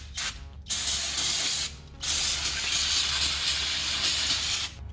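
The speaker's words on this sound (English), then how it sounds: "we're just gonna hit it with some brake clean" Brake cleaner sprayed onto a brake rotor of a 2004 Subaru WRX STI, loud broadband hissing in two long sustained bursts separated by a short pause, close up with no talking.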